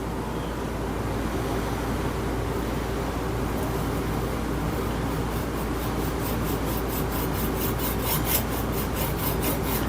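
A file or sandpaper rasps back and forth on a wooden hammer handle, a loud, continuous close-up scraping that keeps an even rhythm for the whole stretch.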